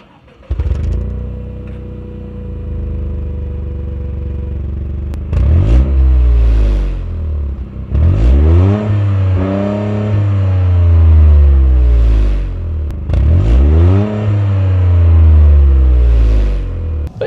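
A Toyota GR Corolla with a stock exhaust starts up, idles, then revs hard three times, each rise and fall in pitch followed by a deep, mild rumble back to idle, loud and close, with no talking.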